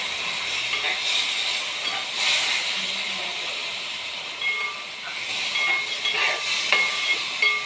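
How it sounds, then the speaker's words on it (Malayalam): Vinegar is poured into chili powder frying in a pan for mango pickle, giving a steady loud sizzling hiss that swells in bursts and lasts throughout with no talking. "ആ സമയത്ത് നമ്മൾ ഇതിനകത്തോട്ട് വിനാഗിരി ഒഴിച്ചു കൊടുക്കുക"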